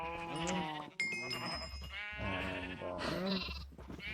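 Sheep in Minecraft (All The Mods 6) bleat several times in a row, loud and close, with wavering cries overlapping one another.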